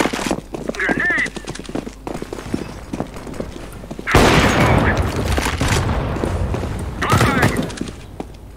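A grenade blast in the video game CS:GO arrives as a sudden loud boom, followed by several seconds of rumbling gunfire and game chaos, with players' voices calling out before and after it.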